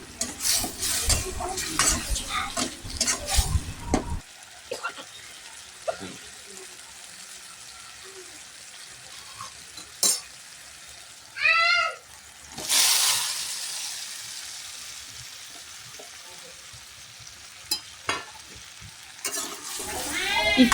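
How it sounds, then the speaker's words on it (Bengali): Snake gourd and potatoes being stirred into masala in a pan, with scraping and clattering spoon strokes and a brief sizzle, bursts of activity separated by quieter stretches with faint background sounds. "চিচিঙ্গা ও আলু দেওয়ার পরে আমি ভালো করে মশলার সঙ্গে চিচিঙ্গা আলুটা ভালো করে নেড়ে নেব।"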